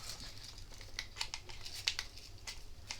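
Scissors snip through ribbon and the ribbon is crumpled for a bunny bow wreath, giving a series of faint, close crinkles and crisp cutting clicks over a quiet room.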